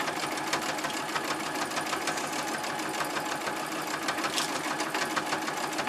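A sewing machine runs continuously as it stitches an exposed-core cloth pad, producing a close, steady, dense mechanical whir with a fast rapid-ticking rhythm and no pauses.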